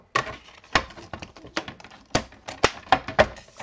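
Card for a handmade greeting card is cut with a rapid series of sharp, close clicks and taps from a paper trimmer, about a dozen crisp snaps in an uneven rhythm.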